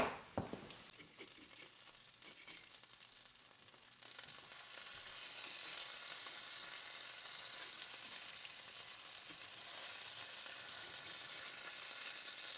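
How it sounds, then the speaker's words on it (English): Bacon sizzles and crackles steadily in a hot pan, a loud, continuous hiss that swells after a few seconds of quieter popping. "while we've been frying this bacon"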